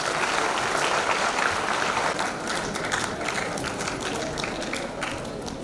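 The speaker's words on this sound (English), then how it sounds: "Congratulate all the winners with a big round of applause." Sustained applause from parents and guests at a school English Week celebration honoring award winners, a dense steady wash of many hands clapping that eases slightly toward the end, with faint voices mixed in.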